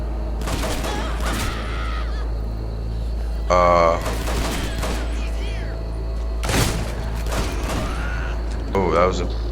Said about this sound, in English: was that a shotgun?